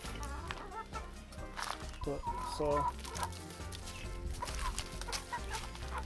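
Farm chickens cluck and murmur nearby around a feeder while a person talks over them, the bird calls coming in short, uneven bursts under and between the speech.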